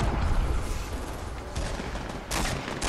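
Rapid bursts of gunfire crackle steadily in a Fortnite match, loud and dense, with a few sharper volleys standing out near the end.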